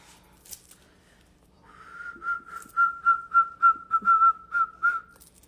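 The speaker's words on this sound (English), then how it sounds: "I don't know how to whistle. So I've been walking around like whistling." A person practicing whistling, producing a steady run of about ten short, clear, same-pitched whistled notes in an uneven rhythm, close and alone in a quiet room.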